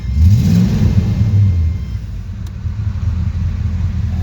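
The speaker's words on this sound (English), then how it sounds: "It actually starts up pretty nicely, and you can hear the car runs real good" A car engine runs loud and close, with a revving swell early on that settles into a steady rumbling idle, no talking.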